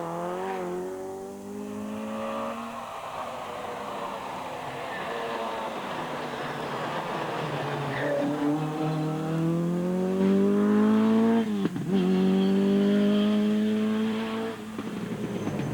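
A Ford Escort rally car on a stage of the 1997 Jersey Rally, its engine revving loud and close with rising and falling pitch through gear changes, tyres scrabbling as it drives past.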